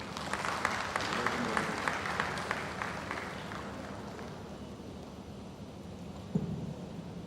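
Audience applause at the Technext Conference 2022, a tech event on blockchain and DeFi: a steady wash of many hands clapping that fills the room for a few seconds, then thins out and fades into quieter room noise.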